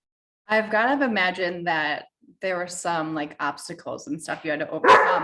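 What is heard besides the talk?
dog barking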